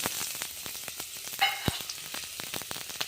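Brinjal and green chillies fry in hot oil, giving a steady crackling sizzle with scattered sharp pops and one louder spatter midway, close and alone.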